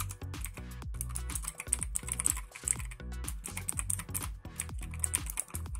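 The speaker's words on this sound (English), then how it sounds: "it's equipped with Huano MX Blue switches, and these are the clicky ones, the ones which are deliberately louder when being pressed." Fast, continuous typing on an ET Robot RGB mechanical keyboard fitted with Huano MX Blue clicky switches. Loud, crisp clicks come one after another in a busy rhythm, close up, over a low steady background tone.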